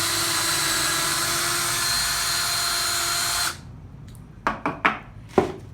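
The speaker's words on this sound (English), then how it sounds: "we're going to start the process of drilling" A power drill whines continuously into a scrap piece of wood for a few seconds, then stops abruptly, followed by several short knocks and clatters nearby.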